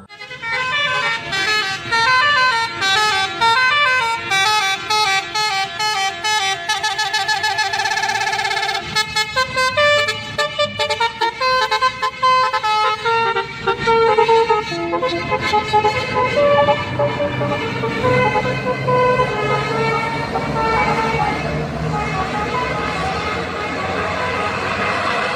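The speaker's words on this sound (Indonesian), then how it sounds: "kali ini ada bus Sudiro Tunggal Jaya teman-teman" A Sudiro Tunggal Jaya bus sounds its loud musical horn in long repeated melodic blasts over a rumbling engine, the tooting continuing through most of the stretch as the bus passes.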